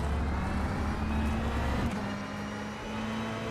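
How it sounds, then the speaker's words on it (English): In rFactor 2 at Spa, an LMP2 race car launches off the line at the race start, its engine a loud, dense roar that shifts pitch partway through and then settles into a steady drone. "Wow, that LMP2 just takes off."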